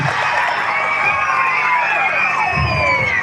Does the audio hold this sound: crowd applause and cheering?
yes